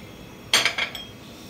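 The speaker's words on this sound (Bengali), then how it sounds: "এটা প্রথমে আমি একটু চামচ দিয়ে মিশিয়ে দিচ্ছি।" A spoon mixes gram flour and cornflour in a bowl, giving a quick cluster of three or four light metallic clinks against the bowl, fairly close in a quiet kitchen.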